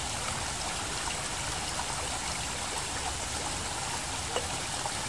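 Water pours steadily into a protein shaker bottle outdoors, a continuous close splashing trickle that holds at an even level throughout with no voices.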